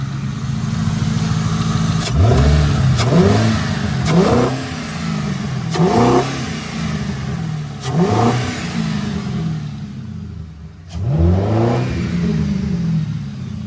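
A Ford Mustang engine revs repeatedly, about six sharp throttle blips rising and falling over a steady idle, close and fairly loud, not taking the throttle well.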